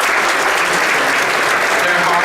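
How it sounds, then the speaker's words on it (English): An audience at a youth celebration event claps loudly and continuously, a close, dense wash of applause with faint voices mixed in beneath it. "would like to just give them an applause"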